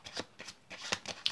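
A deck of playing cards is shuffled during a gimmick card trick, giving several quick papery riffling bursts in an uneven rhythm, close and fairly quiet, with no talking.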